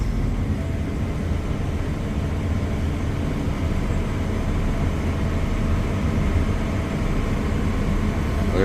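Tractor engine throttling up with the PTO engaged, driving an adjustable alley and cattle squeeze crush, a steady loud low rumble that holds throughout without pause.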